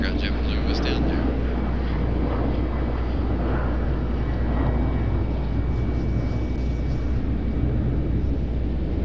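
A Breeze Airways Airbus A220 jet roars loudly and steadily at an airport, a broad continuous engine rumble with wind buffeting, while a voice talks over it.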